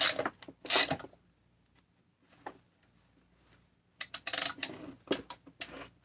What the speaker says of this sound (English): Case splitter on.